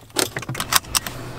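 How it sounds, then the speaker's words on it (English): A set of keys jangles as it is picked up, giving several quick bright metallic clinks in short bursts, close to the microphone. "All I need to do is grab my phone, my keys, and Frederick's hat"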